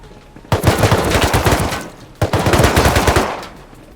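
Automatic gunfire from scientist NPCs in the survival game Rust, two long rattling bursts of rapid shots, loud and close, with a short gap between them.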